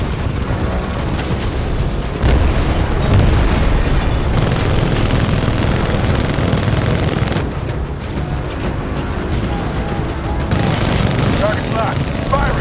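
A Titan's weapon firing in Titanfall 2, a loud, dense wall of heavy booms and blasts that continues throughout with rumbling impacts and some game voices mixed in.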